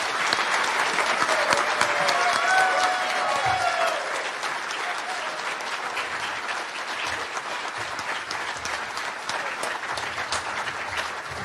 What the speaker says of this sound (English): So let's give Jerry a round of applause.